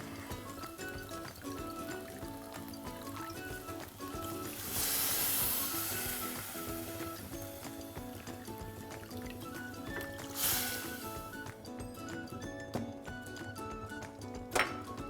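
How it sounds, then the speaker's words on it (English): Water is poured into a pan of toasted millets with mint leaves, giving a soft liquid splash in two short bursts over quiet background music. "we are going to add water in the same 1:2 ratio like you would add for a basmati rice"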